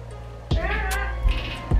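A cat meows in a single drawn-out call lasting about a second, close and clear, followed by a couple of soft thumps against a low steady hum in an indoor room.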